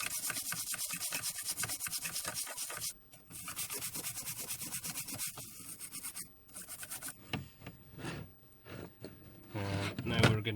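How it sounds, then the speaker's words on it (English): A Commodore Amiga 500 Plus circuit board being scrubbed with a brush to loosen battery leak residue, with brisk close rubbing strokes in bursts and brief pauses between them. "So I'm going to do another scrub just to agitate it."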